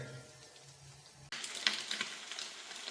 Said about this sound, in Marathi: अशा पद्धतीने फ्राय करतोय आपण अंडी